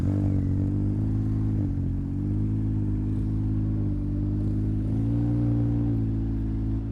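A motorbike engine carrying a rider and passenger runs close and loud, a deep steady drone that rises and dips slightly in pitch as it is gently throttled.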